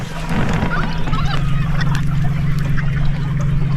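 Arctic seabirds squabble on the water, loud raucous honking cries and smacking sounds close by over a steady low engine hum, as from a sailing boat near a glacier.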